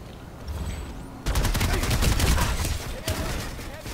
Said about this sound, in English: Yeah, guy on B room shooting me.